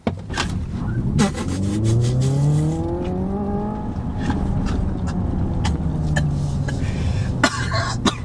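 Hyundai Ioniq 5 N electric car with its N sound mode on launches hard from standstill, giving a loud rising engine-like whine close by that climbs in pitch over several seconds, with occasional clicks and interior noises.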